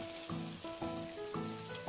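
Pre-fried beef brisket drops into a pot over aromatics and sizzles quietly and steadily, with soft bursts of stirring at a regular rhythm and no talking.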